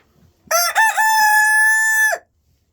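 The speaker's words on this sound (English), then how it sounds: "I never saw him crow before." A rooster crows loudly and close by in one long, sustained cock-a-doodle-doo lasting about a second and a half, with nothing else around it.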